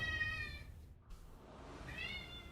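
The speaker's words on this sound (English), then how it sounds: "meowing at like all hours" A house cat meows twice, one drawn-out meow at the start and another near the end, both close and clear over a steady background hum.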